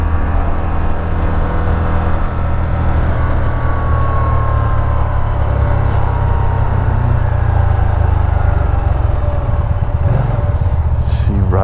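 A 2013 Can-Am Spyder ST Limited three-wheeler engine runs loud and close with a deep, continuous rumble, the revs rising and easing steadily throughout.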